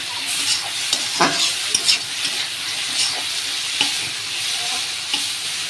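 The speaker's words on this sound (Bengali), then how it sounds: "বাদামগুলো দিয়ে আমি একটু নাড়াচাড়া করে নেব" Peanuts being stirred into red amaranth greens frying in a pan, with a sizzling bed and repeated scraping strokes and light clinks of the spatula up close.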